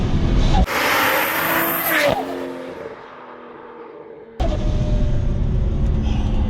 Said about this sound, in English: I love the sound of that turbo.